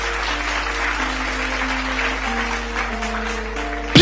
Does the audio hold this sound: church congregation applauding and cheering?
yes